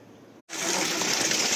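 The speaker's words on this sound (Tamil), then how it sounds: "ஆனால் தண்ணி வந்துட்டு தான் இருக்குது" Water gushing from a 3 HP solar-powered pump run by six 550-watt panels: a brief quieter flow, a momentary break, then a strong, loud, steady rush of water close by.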